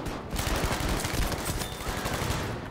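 Rapid hip-fired gunfire in Battlefield 5, a sustained dense burst of automatic shots running nearly unbroken and loud from start to finish, with no talk over it.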